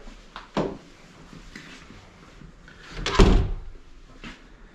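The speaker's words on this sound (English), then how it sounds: "they've got modern cupboards with soft close" Modern soft-close cupboard doors in a rental house interior, with a couple of dull knocks and a louder muffled thump near the end, set among quiet room noise.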